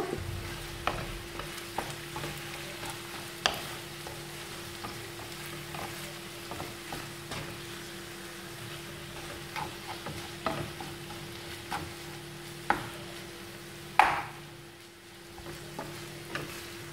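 Ground meat frying in a pan with cumin and powdered coriander, a steady soft sizzle under repeated stirring and scraping clicks, fairly close and quiet, with no talking.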